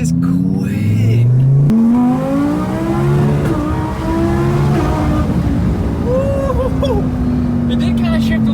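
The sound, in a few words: 1200HP twin turbo Audi R8 accelerating and shifting gears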